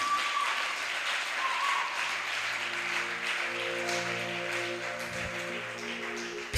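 A church congregation claps in a broad, steady wash of applause that carries on for several seconds, with a sustained organ or keyboard chord rising beneath it toward the end.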